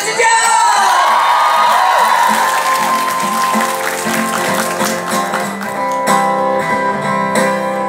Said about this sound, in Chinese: 非常好，给自己掌声的尖叫。